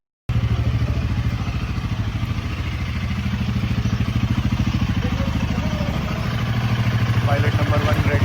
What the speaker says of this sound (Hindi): चलो स्टार्ट होने की आवाज़ आ गई बाइक की।